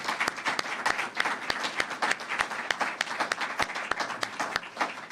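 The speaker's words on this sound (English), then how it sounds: "So if we could give the governor and these troopers a round of applause." An audience at a Florida governor's press event on illegal immigration applauds the governor and state troopers, a steady round of clapping with sharp individual claps cutting through, moderately close and without talk.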